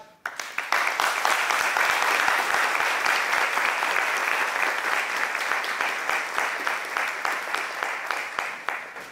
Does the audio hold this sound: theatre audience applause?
yes